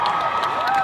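A crowd at a Doctor Who 50th anniversary panel cheers loudly and continuously, a dense wash of shouts and applause from a large audience.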